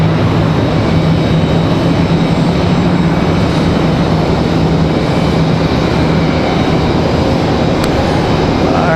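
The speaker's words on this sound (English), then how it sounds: "A321 finally getting a move on over here on this side" An Airbus A321 airliner taxiing at Raleigh-Durham airport produces a steady, loud, broadband engine roar that holds evenly throughout, with no voices.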